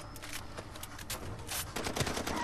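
Rapid bursts of heavy machine gun and shotgun fire in the shooter game Far Cry 2, crackling in quick clustered volleys at moderate loudness.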